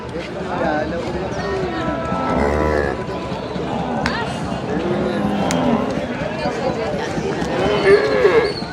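Cattle lowing amid a busy outdoor crowd at the Erragadda buffalo market in Hyderabad, with people talking nearby and a steady hubbub of voices and movement throughout.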